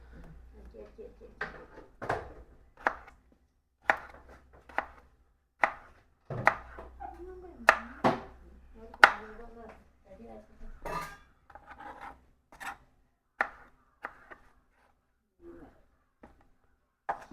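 Steady knife chopping of fruit on a cutting board ahead of juicing: a long run of crisp, close cuts at an irregular rhythm, with soft talk and light kitchen clatter between strokes.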